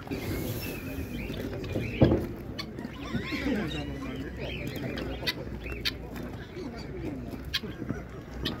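Mallard ducks at an outdoor poultry market in Opatów give scattered quacks among other birds, mixed into crowd chatter with people talking close by.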